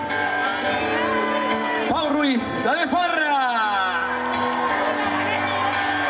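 A live crowd at a concert in Sant Quirze shouts, whoops and cheers for two singers being introduced, with a loud announcer's voice over the top and cheering sustained throughout.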